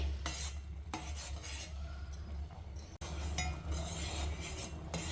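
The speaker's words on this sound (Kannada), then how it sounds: "ನೋಡಿ ಕಷಾಯ ಚೆನ್ನಾಗಿ ಕುದೀತಾ ಇದೆ ಮಿಕ್ಸ್ ಮಾಡ್ತಾ ಇರಿ" A spoon stirs a boiling herbal decoction with milk in a metal pot, making repeated scraping and clinking strokes over a low, steady bubbling rumble, with no talk.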